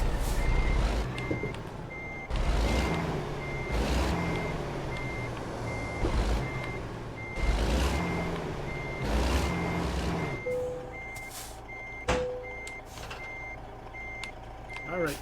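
A truck backs up with a trailer in American Truck Simulator, its reversing alarm beeping steadily over a rumbling diesel engine, with air-brake hisses and a clunk near the end.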